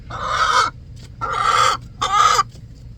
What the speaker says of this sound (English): Chickens. They live in my backyard.